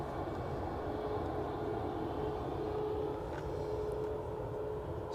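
Aircraft departing Edinburgh airport, a steady distant engine roar with a low rumble and faint whine, sustained throughout with no talk.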